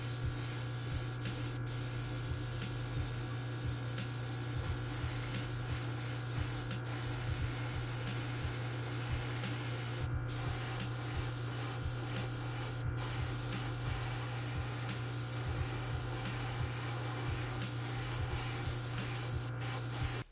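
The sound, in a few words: spray painting hood of 1:64 Dodge Challenger model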